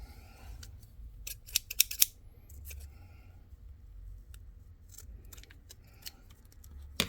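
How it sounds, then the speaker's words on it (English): Scissors snip repeatedly at close range during Warhammer 40K model crafting, with a quick cluster of sharp cuts near the start and scattered lighter snips and handling clicks afterward. "Scissors."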